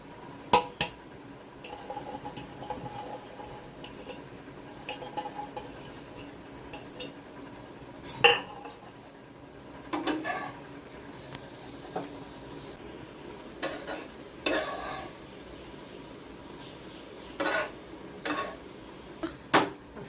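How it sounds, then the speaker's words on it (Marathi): Dried fruits are dry-roasted without oil in a pan over a low gas flame, with a spoon scraping and clinking against the metal in irregular bursts, close and fairly crisp over a quiet background. "कमी गॅसवर भाजला ना तरच छान होत गॅस फास्ट केला ना जळून जाईल मग खाण्यात मजा नाही येत तेल टाकायचं नाही फक्त भाजायचं"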